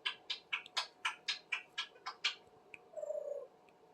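Smokey, a pet bird, lets out a quick run of about a dozen sharp, evenly spaced chirps close to the microphone, then a short pause and a brief softer warbling call at the end.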